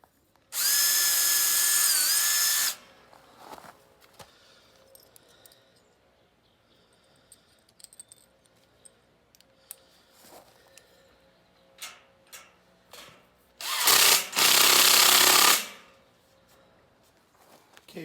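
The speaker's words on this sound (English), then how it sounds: "I'm going to pre-drill a hole." A power drill pre-drills holes in a redwood 2x4 for a rolling compost cart: two loud, steady whirring bursts of about two seconds each, near, with quiet tapping and handling of wood between them.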